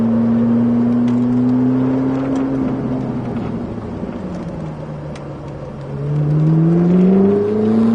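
A Ferrari engine on a driving course under light throttle, its tone rising and falling smoothly as revs change, loud and close from inside the car, with no talk over it.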